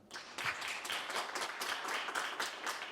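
An audience at a Korean book concert for a policy forum's 20th anniversary applauds to welcome a guest professor, a dense steady round of clapping from many hands filling the hall after a brief quiet start.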